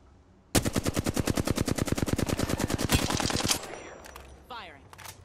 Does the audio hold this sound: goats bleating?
no